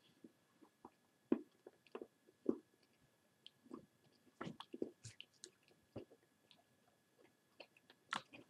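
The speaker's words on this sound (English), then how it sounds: "then I'll just kind of chew the rest as it gets soft" Someone chewing Scho-Ka-Kola dark chocolate after letting it soften, with close, quiet, irregular wet chews and squishy bites separated by brief silences, no talk.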